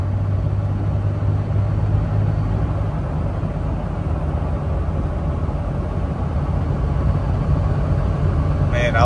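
2004 Dodge Ram 2500 with a Cummins diesel under way, a steady low engine drone and road rumble, loud and continuous, with a voice speaking briefly over it.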